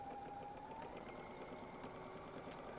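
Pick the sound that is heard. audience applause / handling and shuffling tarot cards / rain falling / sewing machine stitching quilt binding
sewing machine stitching quilt binding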